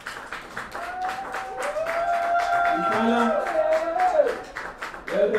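An audience applauds a team at the KHU Masters Series event, a dense patter of clapping that runs for several seconds while an announcer's voice carries over it.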